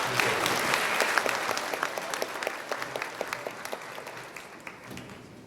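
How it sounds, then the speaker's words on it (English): Applause from a conference audience for the panellists, a dense burst at first that thins into scattered, distinct individual claps as it dies down. "please give our panellists and Damien a big round of applause"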